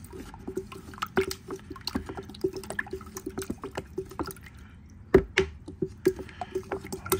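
Liquid lawn fertilizer mix is stirred in a jar, giving a quick rhythmic series of close wet sloshes and soft tapping clicks against the glass that keeps going throughout at a moderate level.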